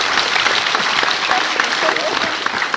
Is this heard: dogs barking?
no